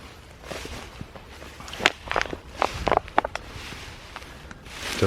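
Footsteps tread through meadow undergrowth near brambles at the edge of an ancient wood. A few uneven crunching, rustling steps are heard close by, with scattered louder crackles partway through.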